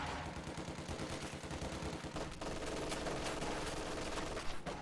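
An MG42 machine gun fires in Company of Heroes, rapid continuous rattling bursts layered with other distant gunfire in a busy battle soundscape, steady throughout at moderate, far-off loudness.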